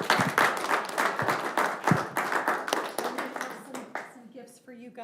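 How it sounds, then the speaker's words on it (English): Audience at a city council meeting applauds, steady clapping from a crowd of people that tapers off near the end, with some voices talking underneath. "So let's give him a round of applause."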